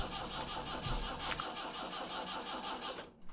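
A vintage yacht's boat engine, with air in its fuel line, cranks without catching: a steady, rhythmic churning drone for about three seconds that then cuts off.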